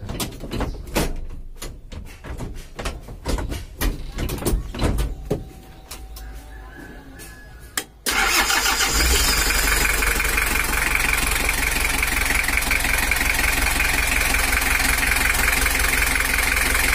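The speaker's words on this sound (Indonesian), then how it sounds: "Ini adalah suaranya dari mobil LH11." Clicks and clunks of a door and handling, then a Toyota Hiace LH11 engine cranks, starts, and settles into a loud, steady idle close by.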